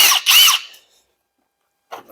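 Impact wrench spinning a socket while working on a Ford Model T, two quick close high-pitched whirring bursts, then silence and a brief fainter whir at the end.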